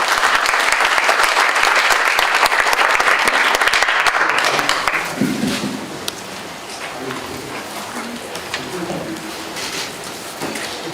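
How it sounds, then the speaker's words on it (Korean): Loud, dense audience applause fills a launch ceremony for a jobs committee, sustained for about five seconds before fading into quieter room noise and scattered murmurs. "여러분 뜨거운 박수 부탁드립니다."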